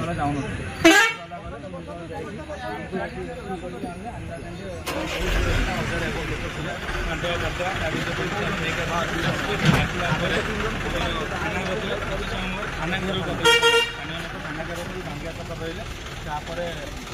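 Vehicle horns honking amid idling engines on a busy street, two sharp horn blasts standing out over a dense rumble of traffic and crowd voices, with people talking throughout.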